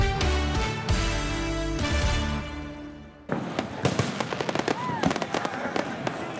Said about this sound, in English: As thousands of people each year watch Burlington's annual fireworks extravaganza from the waterfront or their homes